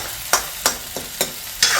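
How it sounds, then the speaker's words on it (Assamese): Tomatoes and potatoes fry in a pan for an Assamese goat mutton curry, with a soft steady sizzle broken by five regular stirring scrapes, close and fairly loud, no voices. "বিলাহীখিনি ধুনীয়াকৈ ভাজা গৈছে"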